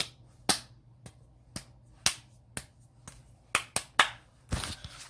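Sharp, isolated hand claps ring out one at a time in an irregular rhythm, about a dozen over several seconds, close and fairly quiet against a near-silent background with no talking.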